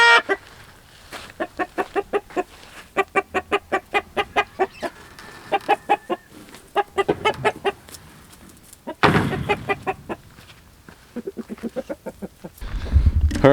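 Roosters in an enclosure clucking in quick rhythmic bursts of repeated calls, close and fairly loud, with flapping and rustling between the clucks.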